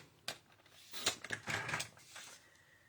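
Abigail Rose designer series paper cut to size for a handmade card: a short scrape, then a longer swishing slice of the blade through the sheet, close and fairly quiet.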